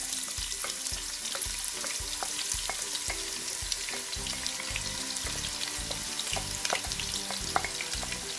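Onions fry in a pan for a Sylheti beef akhni biryani, making a constant close sizzle broken by regular scraping strokes of stirring.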